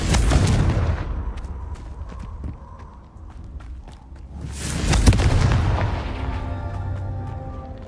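Confringo fire spell explosions in Hogwarts Legacy, two heavy booming blasts several seconds apart, each rolling into a long decaying rumble, with scattered clicks and footstep-like taps between them.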